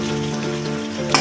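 Spices and potato pieces for a home-style fish curry sizzle steadily in hot oil in a pan, a continuous close frying hiss that lasts only a moment.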